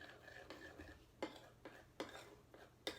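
Raw coconut macaroon ingredients, with cayenne and Himalayan salt, are stirred in a bowl. Quiet, rhythmic scraping strokes sound about every half second, close by, over a soft background hum.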